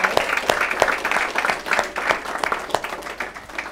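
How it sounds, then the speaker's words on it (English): Full, dense audience applause for panelists after a panel discussion, a steady close wash of many hands clapping for several seconds without letup. "If everyone could just join me in a round of applause for our panelists for being here today."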